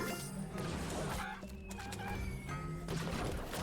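Chickens cluck briefly amid the dense, busy battle noise of the Warcraft Rumble strategy game, with short clucking calls partly masked by impacts and effects.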